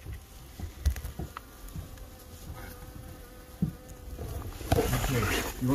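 Bees buzz around a hive in a dark root cellar used for storing honey. A thin, continuous drone sits under scattered thumps and rustling handling noises that build toward the end.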